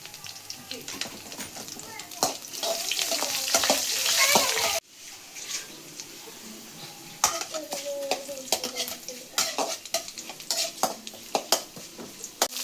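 Ginger, garlic, green chili and curry leaves sauté in a hot pan for mushroom mezhukkupuratti, with steady sizzling, spoon scrapes and clinks against the pan, and a voice talking over part of it.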